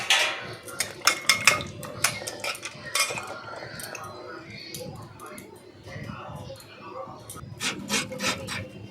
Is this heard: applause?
no